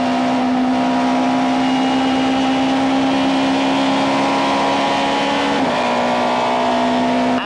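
Opel and Audi touring cars race at Goldfields in the 1996 South African touring car series, a loud steady engine drone holding high revs throughout with a brief shift in pitch near the end.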